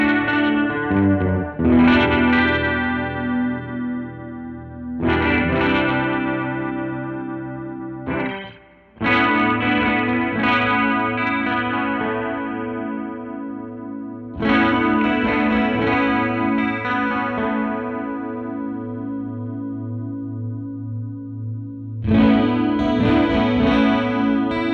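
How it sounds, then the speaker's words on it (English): Acoustic guitar chords strummed through a shimmering chorus effect from a Caroline Guitar Company Somersault pedal, ringing out in several phrases with brief pauses between them, close and fairly loud. "I personally think that a chorus sounds lovely on acoustic"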